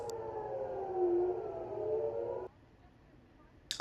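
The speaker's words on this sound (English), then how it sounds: "air sirens were activated in Jerusalem" A civil defense air-raid siren wails over Jerusalem, a steady distant tone with slow pitch drift that sounds for a couple of seconds and then cuts off abruptly, leaving quiet room ambience.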